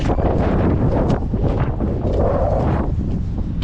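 Heavy wind roars across the microphone in continuous gusts outdoors in Canada, a loud broadband rush with no talking.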